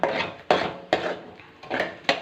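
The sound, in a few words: mixing fried mushroom pakodas into sauce in a pan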